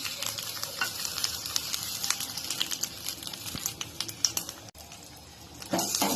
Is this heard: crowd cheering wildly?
no